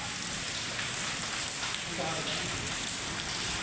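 Hail falling on surfaces during a heavy hailstorm in Sirsa district, a dense, steady, close pattering hiss that stays loud and continuous throughout.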